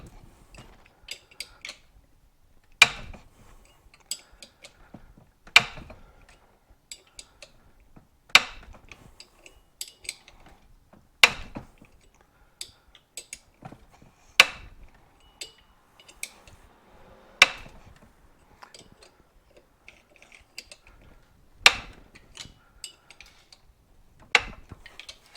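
The flywheel of a seized 1973 Suzuki TC125 two-stroke engine being forced round by hand, giving sharp metallic clicks and knocks at regular intervals, each a few seconds apart, close by, with faint rattles between them.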